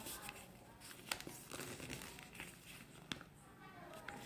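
Paper is folded by hand for an origami fish flicker, giving soft, close crinkles with a few sharper creasing snaps. A faint voice can be heard in the background.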